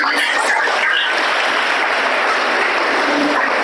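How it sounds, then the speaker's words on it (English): An audience at a Red Cross Day commemoration applauds the volunteers, a dense, steady wash of clapping from many hands filling the room, loud and continuous without talk. "I would like to urge all the participants to give a round of applause to the volunteers."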